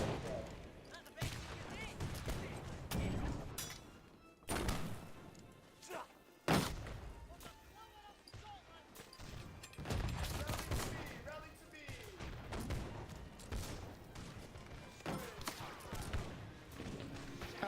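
Musket volleys crackle in the multiplayer video game Holdfast: Nations At War, with scattered and clustered shots, thuds and a sharp nearby blast, under battle noise and voices talking throughout.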